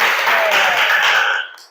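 Children clap together in a classroom, a dense burst of hand claps that fades out toward the end.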